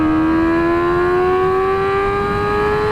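A custom Honda CBR1000RR sportbike engine held at a loud, sustained high-rpm howl, its pitch climbing slowly and steadily toward redline, close and alone with no talking.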